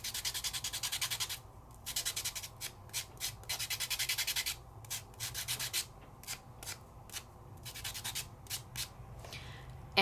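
Steady rhythmic strokes of a blade being sharpened on sandpaper, a dense stretch of rapid rubbing followed by shorter separate back-and-forth passes, close and fairly loud, no voices.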